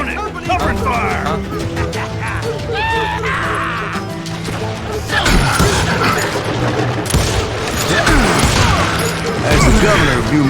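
Gunfire rattles in the Wild West video game Call of Juarez, a busy fusillade of shots, crashes and booms growing louder over the clip, mixed with game sounds and voices.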